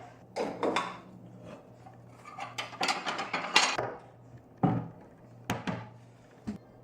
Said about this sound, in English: I'm doing dishes